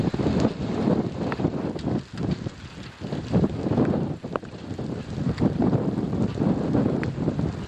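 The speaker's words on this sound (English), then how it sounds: "very strong north wind feeding directly into it" Strong north wind feeding into a very large tornado near Red Rock, Oklahoma, a loud continuous gusting roar buffeting the microphone in surging waves.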